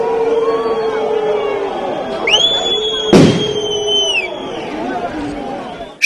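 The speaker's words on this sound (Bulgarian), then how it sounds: "част от хората започнаха да хвърлят пиратки и камъни срещу униформените" Firecrackers thrown by protesters at uniformed police during a clash on the edge of a neighbourhood, with one sharp, loud burst standing out midway over a murmuring crowd and whistling noise.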